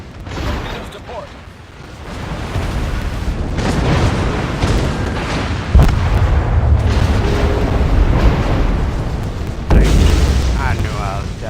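Torpedo explosions striking a ship in a naval video game, heavy booms over a constant rumbling din, with a big blast around the middle and another near the end, and voices talking throughout.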